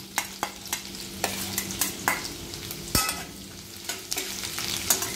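Chopped garlic cloves sautéing in a pan over a gas flame, a steady close sizzle broken by irregular scraping and stirring clicks, with no voices.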